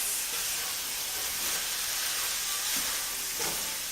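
Pork searing and browning in a hot skillet, a dense, even hiss of sizzling fat that holds steady and close throughout, with a couple of faint knocks near the end.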